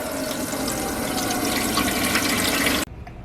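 Water pours steadily from a tap into a tub being filled to soak a small reptile, a continuous close splashing rush that cuts off abruptly near the end, leaving faint room noise.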